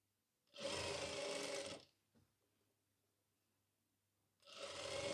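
Sewing machine stitching ladies' pants: a close, steady whirring run of about a second and a half, a quiet pause with a small click, then the motor starting up again.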